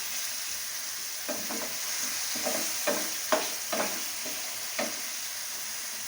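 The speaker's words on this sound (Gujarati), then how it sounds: "હવે આ ટમેટું સુધાર્યું હતું એ આપણે નાખશું. એને આપણે જરાક સાતળી લઈશું." Chopped tomato sautéing in a pan for fasting-style (farali) Manchurian, a steady sizzle with several distinct scraping stir strokes spread through the stretch, no voices.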